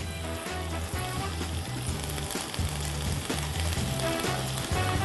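Pork chops fry in a pan sauce with cold butter added, giving a steady, close sizzle throughout with bubbling texture and no speech.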